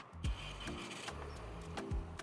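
A 2024 Nissan Rogue SL AWD starts remotely from its key fob: the engine cranks with short low bursts and then settles into a steady close idle, with no talking.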